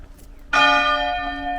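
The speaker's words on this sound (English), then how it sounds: "That bell echoing through the empty space is incredibly startling when there hasn't been a single ambient city sound for" A single loud church bell strike rings out over an empty, silent city square, its bright tone sustaining and echoing as it slowly decays.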